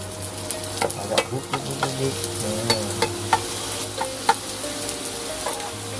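Whole wonton wrappers fry in a pan of oil with a lively, bubbling sizzle, punctuated by rhythmic scrapes and taps of a utensil moving the sheets.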